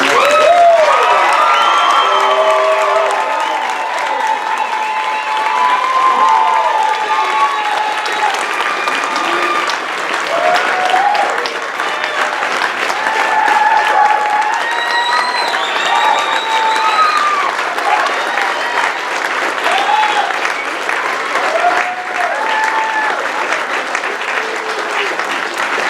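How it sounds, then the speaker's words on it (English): Audience applause at the Palmer College of Chiropractic West graduation convocation, a loud, sustained round of clapping from a large crowd with scattered cheers and whoops over it. "a louder round of applause"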